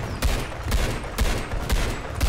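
Steady gunfire aimed at a giant in the Roblox game Giant Survival, a loud regular series of booming shots about every half second, with no talk over it.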